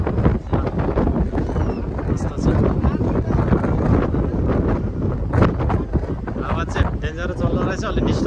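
Strong wind buffeting the microphone outdoors, loud gusty rumbling that rises and falls throughout, with people talking underneath.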